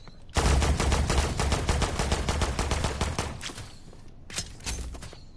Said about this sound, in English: I can just run around with a full auto weapon.